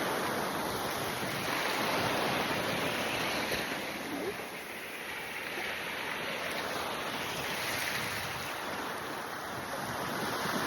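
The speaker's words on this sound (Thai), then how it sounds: "หน้าริมแคมทะเลเนาะ" Sea waves wash continuously onto the shore at the seaside, a broad, steady surf roar with some wind buffeting the microphone.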